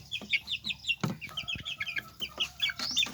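Lemon Sweater chickens, about a month old, cluck and peep steadily close by, the soft calls overlapping in quick repeated bursts with a few louder notes.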